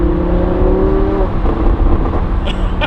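A Lamborghini Huracan downshifts, its engine note falling from a steady drone into a lower rumble, with a couple of brief exhaust pops near the end, heard from inside the car.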